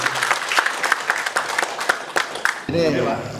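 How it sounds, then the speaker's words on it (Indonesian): An audience at an official gathering of the Nahdlatul Ulama East Java regional board applauds, a steady patter of clapping across the room that gives way to a voice at the end. "Kita beri aplaus hari sekalian"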